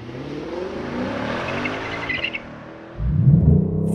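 A V8 engine in a 2021 Ford Mustang Mach 1 or Lexus RC F Track Edition revs hard and climbs in pitch, cuts off briefly, then roars back loudly as the car launches.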